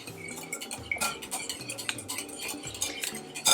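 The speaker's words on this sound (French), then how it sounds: "Tu peux d'abord verser, après tu vas tourner après." A utensil stirs muffin batter in a bowl just after milk has been poured in, with quick clinking and scraping strokes, close and fairly quiet.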